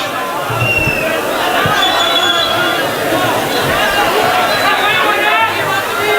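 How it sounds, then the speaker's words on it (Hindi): An audience at an Urdu mushaira poetry gathering in Malegaon breaks into loud, dense, sustained applause that fills the hall, with crowd murmur mixed in. "पुरजोर तालियों से इस्तकबाल कीजिए मुजावर मालेगांवी साहब माइक पर।"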